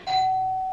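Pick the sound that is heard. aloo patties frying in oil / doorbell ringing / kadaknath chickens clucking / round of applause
doorbell ringing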